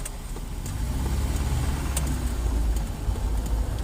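An Opel car's engine rumbles steadily close by as the car moves off, a continuous low drone with road noise and no talking.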